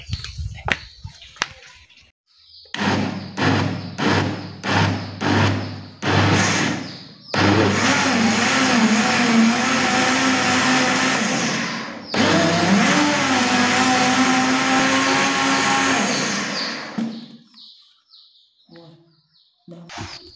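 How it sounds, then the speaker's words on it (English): A kitchen blender whirs as it blends aloe vera and papaya leaves with water, starting with several short loud pulses and then running steadily at full power for about ten seconds before winding down. "So let us go and blend this one."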